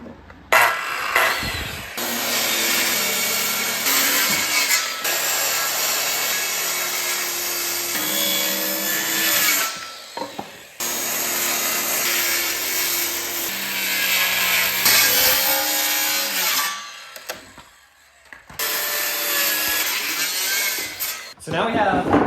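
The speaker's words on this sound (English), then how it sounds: "I'm going to go back with the jigsaw and I'm going to cut a nice curve into this" A jigsaw cuts curved transition frames for a wooden micro skateboard quarter pipe, buzzing loudly in long rasping runs broken by short pauses, with a few brief changes in pitch as the blade works through the wood.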